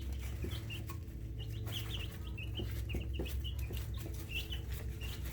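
Eleven-day-old chicks peep and cluck in a brooder, a scatter of short high chirps over a constant low hum, close and busy throughout.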